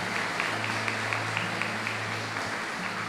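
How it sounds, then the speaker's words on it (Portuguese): A church congregation applauds to welcome a newcomer named João, steady broadband clapping with a few sharper claps standing out, a low hum underneath, continuing for a few seconds. "Uma salva de palmas para o João"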